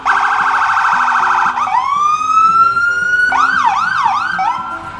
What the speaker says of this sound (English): Sorry about the siren, I said parade.